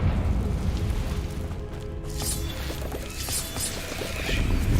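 A Confringo blasting spell bursts in a tomb in Hogwarts Legacy, a single booming blast with a crackling, shattering tail over low rumbling ambience.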